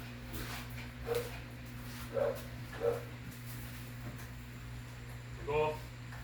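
An angry dog barks indoors in four separate sharp bursts spaced a second or more apart, set against a steady low electrical hum.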